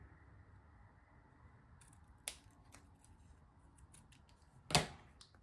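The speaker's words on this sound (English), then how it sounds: "I'm gonna snip my thread." Scissors snip sewing thread while making a zipper pouch, two crisp, close cuts a couple of seconds apart against quiet room tone.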